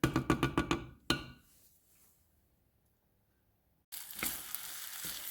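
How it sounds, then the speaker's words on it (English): Food sizzles in a cooking pot after a few quick clattering knocks, the pan going nearly quiet before a strong, steady frying hiss returns. "we got a good sizzle in the pot"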